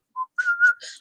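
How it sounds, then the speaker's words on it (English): Whistling by workers on the job, a short single note followed by a longer melodic phrase with a few bright, airy tones, clear and close with no talk. "As they worked, they whistled, and the more they worked, the more they whistled."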